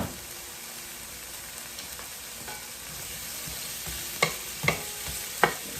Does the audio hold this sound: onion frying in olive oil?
yes